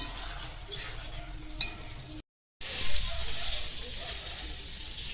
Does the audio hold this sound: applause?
no